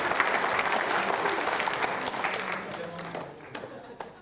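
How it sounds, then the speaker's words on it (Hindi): An audience at a quiz show for trainee civil services officers claps enthusiastically, a dense burst of applause that gradually fades into scattered claps toward the end. "तालियां बजाइए जोरदार तरीके से"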